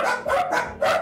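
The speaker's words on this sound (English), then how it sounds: "Dog in a box." A dog shut in a box in the video game The Legend of Zelda: The Wind Waker gives four sharp barks in quick, even succession, clear and close with no talk over them.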